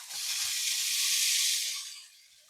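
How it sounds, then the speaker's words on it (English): Bacon sizzles in an already hot frying pan, a steady bright hiss that swells, holds, then tapers off slightly, with a few faint low thumps underneath. "So we have some Tepig bacon here that we're going to get fried up."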